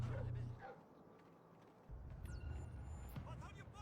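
Dog barking in the stealth video game Splinter Cell: Blacklist, faint game sounds with a few distant yelps and barks over low rumbling background noise, no talking.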